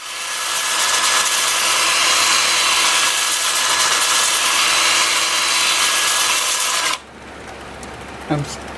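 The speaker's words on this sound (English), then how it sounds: "I'm starting the sanding at 120 grit and working up through 400." Sandpaper worked against a spinning piece of turned wood on a lathe, moving through grits from 120 up to 400, gives a loud, steady broadband hiss with a motor hum underneath. It cuts off sharply near the end, leaving a quieter room with a brief knock.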